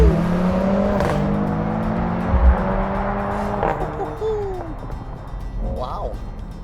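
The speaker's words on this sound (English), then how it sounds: "Give this thing a go in race mode. Let's see what we got. Launch control." A 2025 Mercedes-AMG GLC63, 671 hp, launching under launch control in race mode: a loud engine surges through rising gear pulls with brief shift breaks, heard from inside the cabin under a faint voice.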